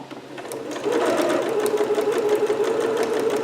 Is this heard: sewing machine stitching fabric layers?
yes